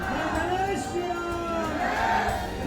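A large crowd of devotees at a grand religious procession in Chandrapur, Maharashtra chants 'Jai Shri Ram' in a dense, continuous swell of many voices, with shouts and whoops rising out of the mass.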